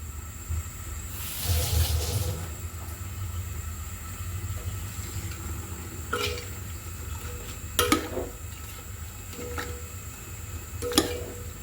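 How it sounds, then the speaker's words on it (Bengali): Chicken being sautéed in a pan for Sri Lankan chicken biryani: a steady low hiss over a soft rumble, with a brief louder burst and a few sharp clinks of utensils scattered through it. "আমি এটা একটু কষিয়ে নিব"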